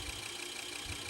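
A NordicTrack S50 treadmill motor runs with a steady, even whine and hum at close range, with no change over the short stretch.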